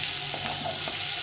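Chopped green chillies sizzle in hot oil in a pan, giving a steady, close hiss with faint stirring scrapes over a short stretch.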